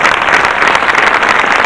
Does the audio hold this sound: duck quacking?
no